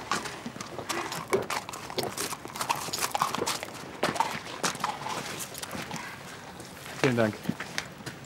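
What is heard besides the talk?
horse hooves clip-clopping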